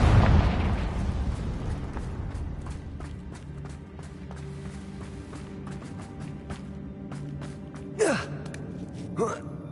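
The Confringo explosive spell goes off in the video game Hogwarts Legacy, opening with a loud burst that decays into a rumbling tail, followed later by two quicker whooshing blasts over a low game ambience.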